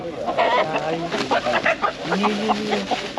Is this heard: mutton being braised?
no